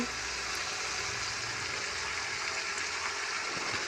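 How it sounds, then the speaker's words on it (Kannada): Chicken gobi fries in a pan with soy sauce, giving a soft, steady sizzle that holds evenly throughout without a break. "ಸೋಯಾ ಸಾಸ್ ಹಾಕೊಂಡು ಚೆನ್ನಾಗಿ ಮಿಕ್ಸ್ ಮಾಡಿ ಅದನ್ನು ಫ್ರೈ ಮಾಡ್ಕೊಳ್ಳಿ"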